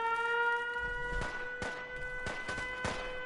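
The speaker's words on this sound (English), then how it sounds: "I do not like the noise the siren makes in VATS" A steady electronic siren-like tone with layered pitches drones throughout, the VATS siren in the video game Fallout 4, punctuated by several sharp thumps and bursts.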